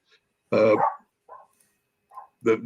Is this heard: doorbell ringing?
no